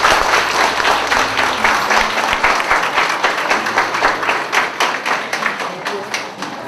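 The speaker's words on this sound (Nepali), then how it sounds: "ताली बजाइदिनुहोस्।" Guests at a wedding in Pokhara, Nepal, clap together in a dense, close round of applause that holds steadily and then slowly thins out toward the end.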